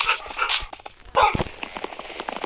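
Dogs in the Minecraft video game bark and yip in a few short, sharp bursts, close and fairly loud, with game sounds in between.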